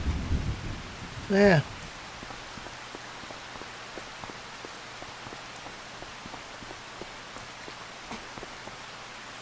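Rain falling on a farm, a soft, steady patter of scattered drops with a low rumble at the start. A single short spoken word rises briefly above it.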